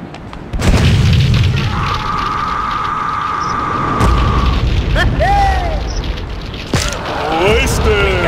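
Rocket launcher explosions in the top-down video game GTA2 boom loudly and heavily, with several deep blasts spread across the stretch over other game sounds and a brief voice.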